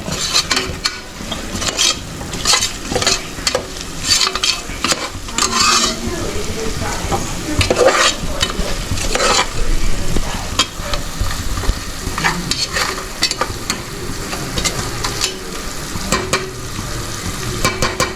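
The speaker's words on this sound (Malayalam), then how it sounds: "ഇളക്കി കൊടുക്കുക" Chicken mandi masala fries and sizzles in a pan in a home kitchen while a utensil scrapes and stirs it. The stirring strokes are loud, close and uneven over a steady hiss, with a few clinks against the pan and no talk.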